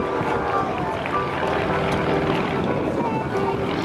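A PT-17 Stearman biplane's propeller engine drones steadily at an airshow, a loud continuous rumble that holds without pause for several seconds.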